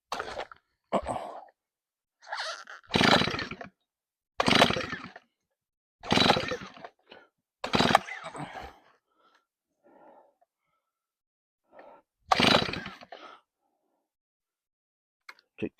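Stihl 034 chainsaw on choke with fast idle, several short loud bursts as the engine pops and catches in spurts over the clip, separated by pauses and faint sputters, close by.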